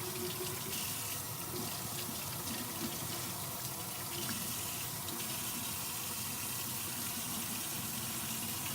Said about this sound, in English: The top comes apart into two pieces. Rinse those off.